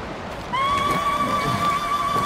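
Kaze, a horse in Ghost of Tsushima, gives a loud, close whinny that rises and holds a wavering, tonal neigh for nearly two seconds over soft background ambience.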